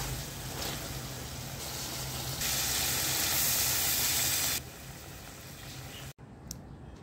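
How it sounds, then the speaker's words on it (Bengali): Meat browning in a hot pot for a thin, light curry gives off a loud, steady sizzle and hiss that swells midway, then drops lower before cutting off abruptly. "আমি এখন মাংসটা কষিয়ে নিচ্ছি"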